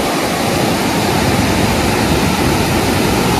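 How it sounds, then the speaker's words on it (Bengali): Sea waves at the beach at Mandarmani, a continuous loud wash of surf and rushing water with no pauses and no talking. "জলের স্রোত দেখ"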